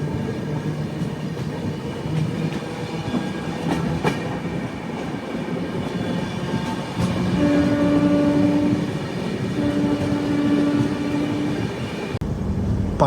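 A passenger train on the line between Visakhapatnam and Kurnool rolls past Panyam railway station, a steady loud rumble of wheels and carriages with a sustained horn tone sounding midway, no voices.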